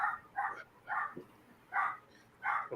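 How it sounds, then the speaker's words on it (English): A dog barks repeatedly outdoors, five or so separate mid-distance barks in an uneven rhythm, standing alone with no talk over them. "What's that dog barking at?"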